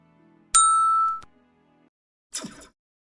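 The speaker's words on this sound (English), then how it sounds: "turn on the notification bell" A single bright notification-bell ding rings out clearly and decays over about half a second, followed after a pause by a short whoosh, with no voices present.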